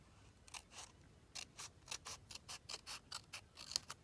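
Scissors cut through card paper for a tri-fold Christmas card, a run of crisp rhythmic snips, close and quiet, with no speech.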